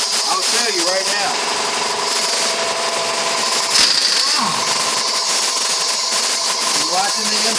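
Big Red, an impact wrench, works off the front hub bolts of a Ford Explorer during a wheel bearing repair, producing a loud, steady, gritty mechanical roar that runs without a break, with a voice faintly present.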